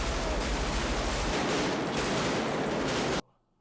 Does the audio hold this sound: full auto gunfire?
yes